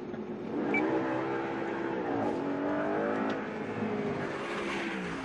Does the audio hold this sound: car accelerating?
yes